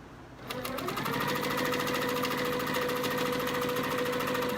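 A sewing machine stitches a quilted table runner, starting after a brief pause and running at a fast, steady, rhythmic clatter, close and continuous, with no talk.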